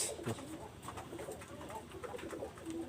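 Soft cooing of a golden pigeon close by, a few low rounded calls against a steady murmur of background noise.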